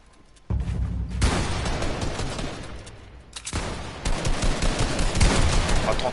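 Shotgun blasts and bursts of gunfire in a competitive shooter video game match, loud dense volleys of shots with booming impacts, continuous rapid firing through most of the stretch.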